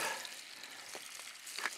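Steady broadband sizzle of eggs frying in a hot pan, continuous and close, with a few brief louder crackles.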